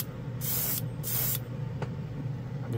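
Short bursts of spray from an airbrush or spray gun lay KBS Diamond Finish clear coat onto a plastic model kit, with two strong hissing passes and a few faint puffs close to the microphone.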